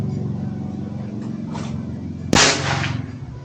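A single sharp air-rifle shot fires a 19-grain slug through an MK barrel at a 70-meter range. The crack rises abruptly over a steady low background hum and decays quickly.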